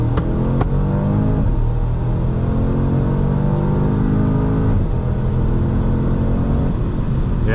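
A tuned 2023-era 8Y Audi S3, fitted with a sound actuator, accelerates hard from inside the cabin. The engine note climbs steadily through the revs, with a brief dip near the five-second mark as the car shifts, all loud and close.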